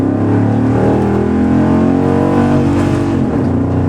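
A Hemi-engined car roars hard as it accelerates through first gear, a loud, continuous engine note with steady rising harmonics for the whole stretch, with no talk over it.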